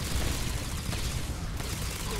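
Constant gunfire in the Custom Zombies map "Dead Ship": a dense, loud wall of rapid shots and rumble goes on without a break the whole time, close and heavy.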